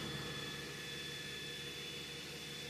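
A BMW engine with a squeal fault, revved and held steady near 2000 RPM: a constant broadband roar with a thin, high whine running through it, unchanging and loud throughout.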